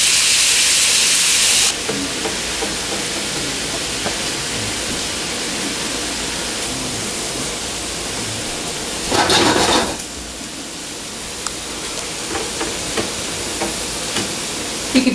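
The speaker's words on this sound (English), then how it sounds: "Drop the shrimp in. Once it's in, kind of spread it out a little bit and let it sit." Shrimp seared in hot oil in a stir-fry pan, giving a loud hissing burst at first that settles into a steady, quieter sizzle, with a brief louder flare of spitting midway.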